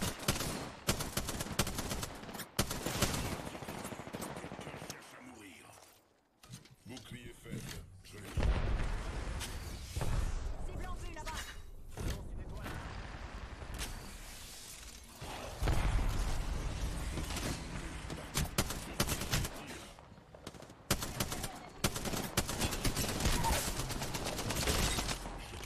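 Heavy gunfire in Apex Legends: bursts of rapid automatic shots and fusillades, loud and close, with a brief lull midway, under occasional voices.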